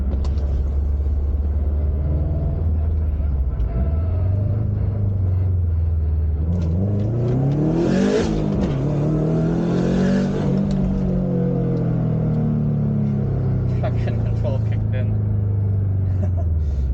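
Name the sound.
Subaru STi with billet VF48 turbo accelerating on a pull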